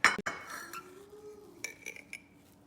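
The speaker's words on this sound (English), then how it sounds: "I'm going to scoop this one out so you'll see what it looks like." A spoon scrapes and clinks against a mug while scooping out a moist egg muffin, with a few sharp knocks at the start, then soft scraping and light taps, close up and quiet.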